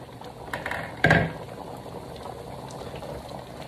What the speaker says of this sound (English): now I got it kind of rolling, boiling